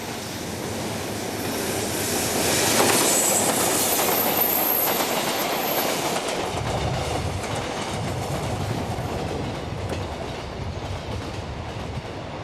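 A train running on rails through the Boseong countryside in South Jeolla, a loud, continuous rumble with rhythmic clickety-clack of wheels over joints and a brief high squeal early on.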